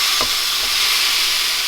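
A vegan burger patty under melting cheese sizzles in a hot pan, a steady bright frying hiss with a couple of soft low thumps near the start as it is flipped.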